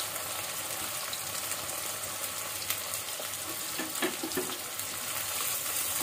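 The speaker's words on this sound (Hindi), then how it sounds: "इसे तब तक फ्राई करना है जब तक ये गोल्डन ब्राउन ना हो जाए।" Two medium onions, finely chopped, fry in hot oil for biryani, giving a steady close hiss of sizzling with a few faint clinks and scrapes near the end; no talking.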